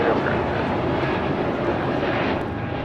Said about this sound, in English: A220-300 is taking off to San Antonio, flight 1454